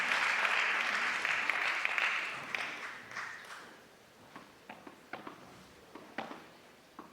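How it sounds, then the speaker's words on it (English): The Cancun Waves bench applauds during a women's padel third-place match. Broad, steady clapping comes first, then it thins into scattered individual claps that trail off over several seconds. "the Cancun Waves bench are on their feet applauding."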